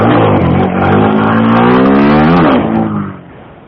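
A motorcycle engine revs hard and climbs in pitch as the rider pops a wheelie, loud and close, then cuts off sharply and fades near the end.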